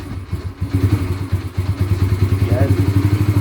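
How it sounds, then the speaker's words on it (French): A small 125cc motorcycle engine catches and settles into a steady, close, throbbing idle, its rapid regular pulses loud and continuous after a slightly uneven first half-second. "c'est une petite 125, donc ça se démarre tout seul"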